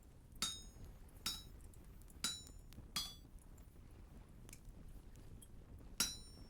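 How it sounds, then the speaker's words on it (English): A chisel cuts into a log in the video game Vintage Story with about seven crisp, ringing metallic taps at uneven intervals, quiet and alone. "A chisel allows me to completely customize blocks, like sticking my initials into this log"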